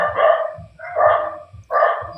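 A dog barks three times in a steady rhythm, each bark loud, close and drawn-out with a rough, harmonic tone.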